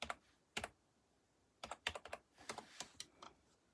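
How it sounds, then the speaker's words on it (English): Someone types on a computer keyboard: sparse, close key clicks in small irregular clusters with quiet gaps between, no speech. "Let me type it in"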